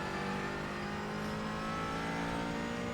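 A McLaren 570S GT4 race car engine in iRacing drones at steady high revs, a dense continuous mechanical roar with layered harmonics holding constant throughout, with no voices.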